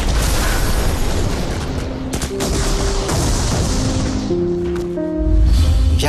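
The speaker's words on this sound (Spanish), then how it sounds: "Ya con el bombardeo encima" Continuous loud explosions and gunfire fill a dramatized bombing of Chile's La Moneda presidential palace, with dense rumbling blasts, sharp bursts and sustained tones from aircraft or sirens layered over a heavy low roar.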